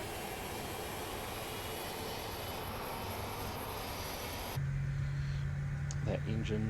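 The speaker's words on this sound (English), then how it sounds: "engine's basically fired up, so we can now do the same for the left-hand engine." A Fokker 100 jet engine in a flight simulator spools up as a steady, loud broadband roar with a high whine, then shifts to a lower, steadier rumble with a sustained low tone once the engine settles, with no talk.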